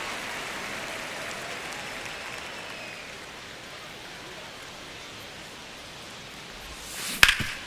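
Crowd noise in the baseball video game MLB The Show 25, Brewers versus Phillies: a steady wash of stadium murmur and cheering that thins slightly mid-way, ending with a sudden sharp burst near the close.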